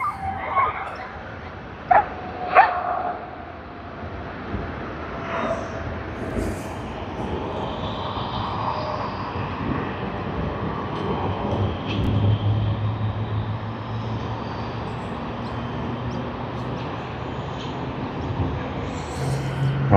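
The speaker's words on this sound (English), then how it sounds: "I hear some engines spooling up" Airliner jet engines spool up at Sydney Airport during peak hour. A distant, broad roar swells steadily over the clip, with a few sharp yip-like sounds near the start.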